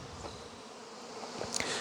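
Honey bees buzz around a beehive in a steady, faint hum, with a few individual bees passing closer near the end, no talk.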